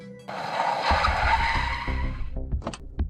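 A black car pulls up before the huge gates of a mansion and comes to a halt, with a loud sustained tire skid and engine rumble, then a few short knocks as it settles.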